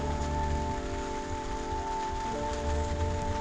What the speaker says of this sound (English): It is raining here in Southern California.